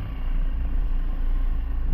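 Heavy road traffic in Carcar, heard during a ride from Minglanilla to Alegria, comes through as a steady, loud, low engine and road rumble with no clear individual vehicles standing out.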